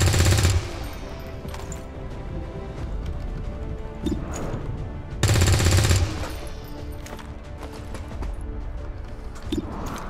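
Bursts of automatic gunfire aimed at zombies in the XCOM 2 video game, two loud sustained volleys separated by quieter rattling shots and impacts, with no talking.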